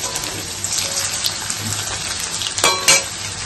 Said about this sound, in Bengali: আর এখানে সব ভাজাভুজি চলছে।